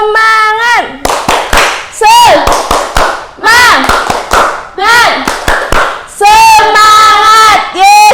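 Indonesian classroom spirit-clap routine: a group alternates patterned bursts of sharp hand claps with loud unison shouted chant lines, repeated several times in a lively, close-up rhythm.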